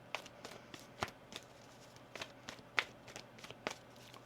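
Tarot cards shuffled by hand during a reading, a series of quiet, irregular riffling taps and flicks, close and faint with no talk.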